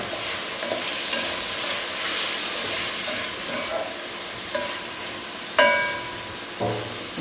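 Food sautéing in a pan for pumpkin rice cooked in coconut milk, giving a steady soft sizzle with occasional stirring scrapes and clinks, heard close and alone.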